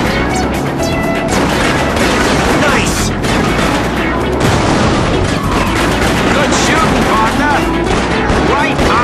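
Gunshots in the Starsky & Hutch driving game arrive as loud, dense bursts of rapid gunfire mixed with crashes and engine noise, while game voices talk over the action.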